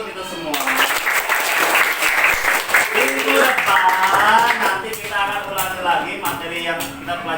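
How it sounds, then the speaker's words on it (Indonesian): A classroom group applauds together during a teacher training lesson, a burst of clapping rising early and carrying on while a voice talks over it and singing-like speech follows. "kita kasih tepuk tangan untuk kita semua"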